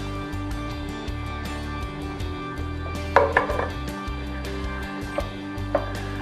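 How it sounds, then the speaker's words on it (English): A 28-ounce can of whole peeled Italian tomatoes and their juice is tipped into a cooking pot for chili, giving a few wet plops and soft clunks over a low kitchen hum. "Add the tomatoes and everything that goes with it."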